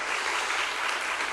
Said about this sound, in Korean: 우리가 박수로 환영합니다.